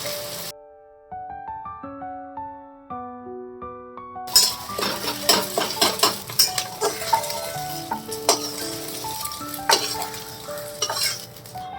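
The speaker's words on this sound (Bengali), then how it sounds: "এবার এটা খুব ভালোভাবে নাড়তে হবে।" Fried rice is stirred in a kadai with a metal spatula, giving repeated close scraping clinks over a soft sizzle after a few seconds of music.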